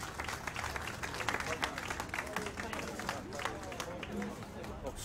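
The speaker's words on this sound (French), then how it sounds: "Je voudrais qu'on les applaudisse fort, vraiment." An audience at a French sustainable-development event applauds steadily, a dense, continuous wash of many hands clapping throughout.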